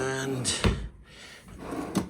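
A hotel room drawer at the Hilton Rosemont near Chicago O'Hare slides open with a brief soft clunk in a quiet room, followed by faint room noise.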